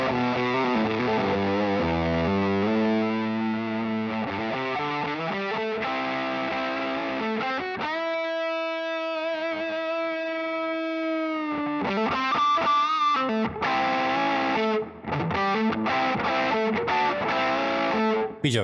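An electric guitar runs through a Big Muff fuzz with its volume turned down on an Axe FX III, playing distorted chords and sustained notes that give way to quick, choppy riffing, with no talking.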